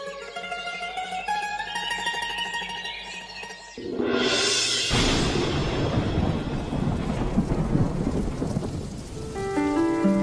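Heavy rain pours down in a thunderstorm as a loud rolling thunderclap crashes and rumbles, after an opening stretch of music.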